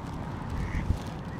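A few scattered duck quacks rise over a muffled, noisy outdoor background, with one brief louder bump near the end.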